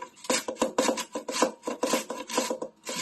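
Cucumbers rasped on a handheld grater in quick, rhythmic back-and-forth strokes, about a dozen close, loud scrapes over a few seconds with no talking.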